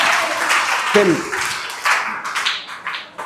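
A short burst of hand clapping from a small group at a talk, cheering someone onto the stage, uneven and fairly close, with a brief voice mixed in.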